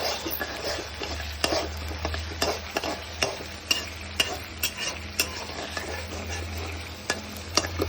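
Sweetcorn snack mixture with chopped tomato and curry leaves stirred in a frying pan, a spoon scraping in irregular clinks and strokes over a steady low sizzle, close and moderately loud with no talking.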